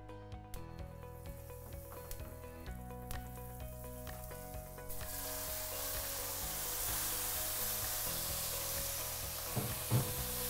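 Margarine melted into hot oil sizzles steadily in a frying pan while cooking chicken liver, a continuous close hiss that grows brighter and fuller partway through, with a faint tonal hum underneath.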